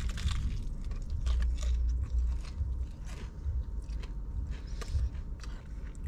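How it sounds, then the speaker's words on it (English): Biting and chewing crunchy fried chicken up close, with repeated crisp crunches and wet mastication over a low, steady background hum. "There's a nice crunch and flavor on the outside."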